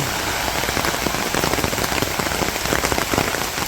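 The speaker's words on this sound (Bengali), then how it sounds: "বৃষ্টিটা আসলে নামার কথা ছিল না তারপরেও বৃষ্টি নেমে গেছে" Rain falls hard and close on a surface, a dense constant patter of countless drops hitting at once.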